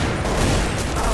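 Rapid burst of gunfire from Counter-Strike: Source, dense and continuous for about a second, loud and close with no talk over it.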